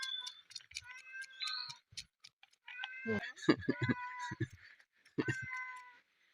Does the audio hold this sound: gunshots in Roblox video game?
no